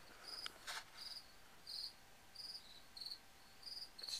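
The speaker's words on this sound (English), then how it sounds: "You hear those crickets out there?" Crickets chirping outside at night, a faint steady rhythm of short high trills repeating about twice a second, distant and alone.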